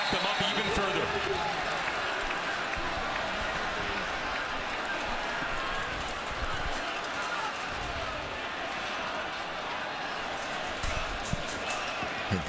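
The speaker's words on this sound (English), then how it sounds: "The noise of this crowd being an issue for the Argo offense." A stadium crowd roars through a CFL football game between the Toronto Argonauts and the Hamilton Tiger-Cats, a constant broad wall of noise filling the whole stretch beneath play-by-play commentary.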